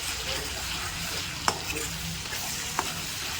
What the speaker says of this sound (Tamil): இஞ்சி பூண்டு சேர்த்து நல்லா வதக்கிறீங்க